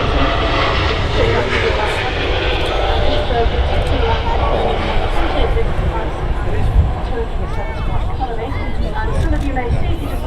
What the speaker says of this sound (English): There's the Etihad Dreamliner rotation.